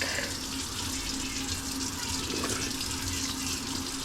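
A spoon is rinsed under a running kitchen tap, a steady, close rush of water that continues unbroken throughout.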